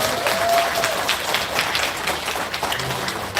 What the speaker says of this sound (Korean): 다시 한번 우리 큰 박수 부탁드리겠습니다